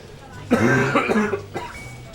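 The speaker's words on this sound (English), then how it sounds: "Still got a coughing fit going on from time to time." A person coughs repeatedly in a close, loud burst lasting about a second, then a final short cough after a brief pause.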